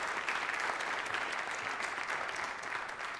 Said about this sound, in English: please join me in giving a big round of applause to all those great sponsors